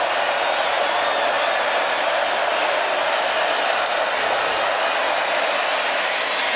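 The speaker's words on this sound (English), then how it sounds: "the crowd fully engaged here at Saban Field" A stadium crowd roars continuously at Saban Field during an Alabama football game, a loud, dense wash of cheering with a commentator talking over it.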